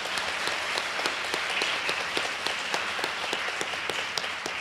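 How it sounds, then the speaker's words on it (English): Warm audience applause for three contestants at a neighborhood poster contest award ceremony, many hands clapping steadily with individual sharp claps standing out, moderately loud and continuous. "How about another applause for these 3 contestants?"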